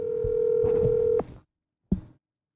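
A steady telephone dial tone plays over a speakerphone for just over a second, then cuts off; after a short silence, one brief click or tone follows.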